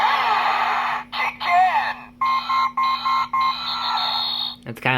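A DX Mach Driver Honoh toy transformation belt sounds an electronic warning alert, a looping, siren-like series of tones broken by short pauses, loud and close over a steady hum.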